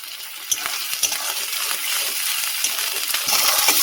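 Onion, garlic and ginger paste with chopped tomato frying in hot oil, a steady close sizzle with scattered small pops and spoon scrapes, no voices.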